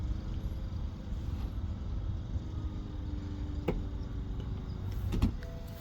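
The convertible top mechanism of a 2016 BMW 228i xDrive Cabriolet runs with a steady, low electric motor whir, broken by a couple of mechanical clicks near the end, with no talking.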